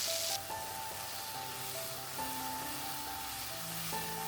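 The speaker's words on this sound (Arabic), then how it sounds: "بنفس المغلى نحط طماطم كرزية ونحرك المغلى شوي عشان تتغطى كلها بالزيت." Cherry tomatoes sizzle in hot oil in a frying pan, a steady crackling hiss running the whole time beneath faint tonal background sounds.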